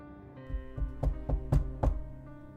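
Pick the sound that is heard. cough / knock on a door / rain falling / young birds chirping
knock on a door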